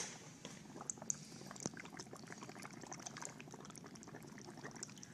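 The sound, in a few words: bubbles blown through a coffee stirrer straw into a paper suspension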